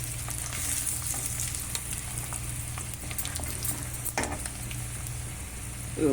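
Dried red chillies fry in hot oil for tempering, giving a steady close sizzle with occasional spoon scrapes and a brief knock near the end.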